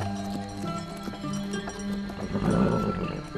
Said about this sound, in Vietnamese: xe ngựa.